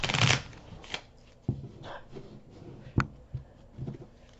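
Tarot cards are shuffled by hand in short, soft bursts of riffling and slapping, close and quiet, with pauses between handfuls.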